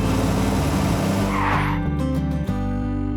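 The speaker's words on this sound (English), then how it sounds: "they spotted a giant toy car rolling toward them" A cartoon giant toy car rolls along a garden, its engine-like rumble steady and loud with a sliding, tire-squeal whine partway through, and no voices over it.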